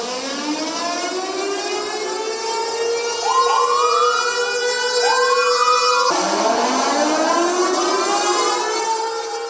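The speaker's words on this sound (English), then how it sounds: "The vigil followed a siren that sounded shortly before 8 a.m. local time" A memorial siren wails at a vigil in Banda Aceh marking the anniversary of the Sumatra earthquake and tsunami, its loud rising and falling tone continuous and alone, swelling midway and shifting pitch after six seconds.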